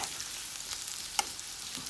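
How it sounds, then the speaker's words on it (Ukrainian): Steady hiss of sunflower oil frying onion and carrot in a pan, with a faint crackle and a brief sharp pop near the middle. "І так робимо зажарку до нашої зупи"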